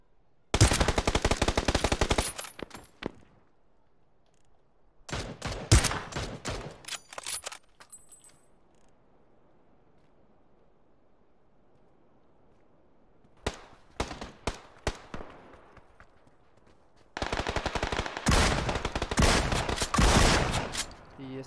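Bursts of rapid automatic gunfire in the battle royale game PUBG: several loud, dense volleys separated by quieter stretches, with voices talking faintly in the gaps.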